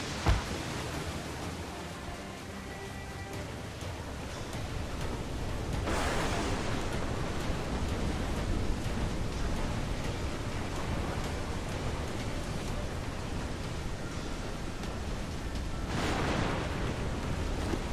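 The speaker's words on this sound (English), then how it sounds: "Water spout, man! Stay wide!" A water spout at sea in Assassin's Creed IV: Black Flag gives off a continuous roaring rush of wind and spray, a loud broadband wash that swells slightly partway through, with no voices over it.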